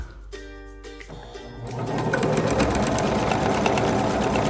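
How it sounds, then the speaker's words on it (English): A sewing machine stitches a kite quilt along a marked line, starting with a few short bursts and then running continuously in a fast, even mechanical whir, close and clear. "we're going to line our foot right up against that line, and we're going to sew"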